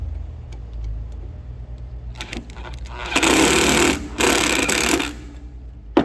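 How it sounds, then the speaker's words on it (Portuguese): A power drill drives two self-drilling screws into a steel part during teardown of a Yamaha Vmax 1200 exhaust headers, whirring loudly in two long close bursts after some shorter taps and scrapes. "Aí basta eu prender aqui com 2 parafusos de autobrocante"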